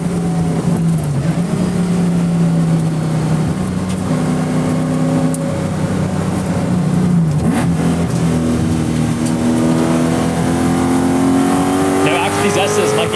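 A V8-swapped Toyota Corolla AE86 on a race track pulls through the gears on a warm-up lap, its engine note rising and falling with each shift, loud and close throughout without any pause.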